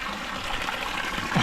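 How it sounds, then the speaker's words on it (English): Fresh water trickles and gushes steadily inside a warm tidal pool in the Kimberley, a continuous close splashing flow with a brief louder surge at the very end and no voices. "Fresh drinking water right here."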